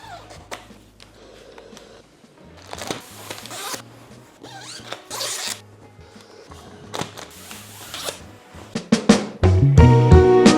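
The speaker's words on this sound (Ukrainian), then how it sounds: "Боже, так приємно користуватись новими дуже гострими ножицями." New, very sharp scissors cut in a home setting, giving crisp, irregular snips and rasping slices. A low steady hum runs beneath, and a louder clattering burst comes near the end.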